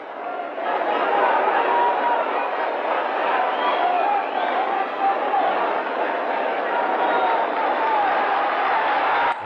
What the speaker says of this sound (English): The crowd spontaneously bring out their applause here for these two men.